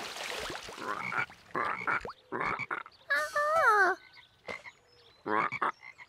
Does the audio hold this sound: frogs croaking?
yes